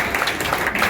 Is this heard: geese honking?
no